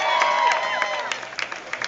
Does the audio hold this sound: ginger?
no